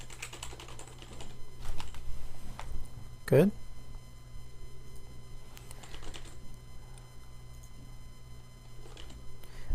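Computer keyboard typing while filling in form fields, light scattered clusters of key clicks at low level, with a brief voice speaking.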